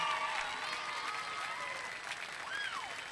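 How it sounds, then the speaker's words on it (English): Steady, dense applause from a Hall of Fame induction audience welcoming the Dakuza Hall of Fame class of 2016, with faint whistles and cheers rising above the clapping for the full length. "let's have a big round of applause for our class of 2016"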